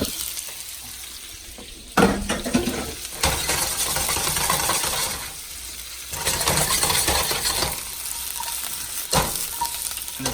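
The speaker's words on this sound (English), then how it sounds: "We're gonna start throwing our mushrooms in" Mushrooms sizzle in butter in a frying pan for a steak dinner, a steady crackling hiss that surges in louder bursts as pieces hit the pan and are tossed, with no talking.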